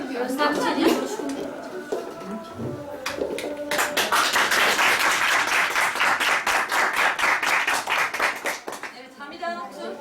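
Audience clapping at a Quran course report-card ceremony in Soğuksu, Pınarbaşı, 2013: a few scattered claps and voices at first, then quick, dense, rhythmic clapping builds up over the talk and tapers toward the end.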